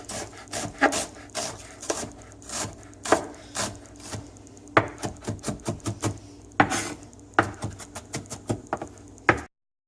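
A knife chops onions on a wooden board in a home kitchen, with a run of quick, crisp knocks in uneven bursts and short pauses between them, close and distinct with no talking.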